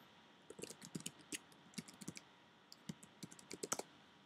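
Keystrokes tapped out on a computer keyboard in short irregular bursts of clicks, fairly close but quiet, with pauses between runs while an internal router address is typed.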